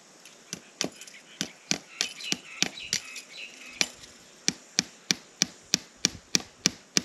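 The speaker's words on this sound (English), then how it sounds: "staple it to the tree." A hammer drives staples to fix a possum trap to a tree outdoors, a series of sharp, close wooden knocks, irregular at first and then settling into a steady rapid rhythm of about a dozen blows.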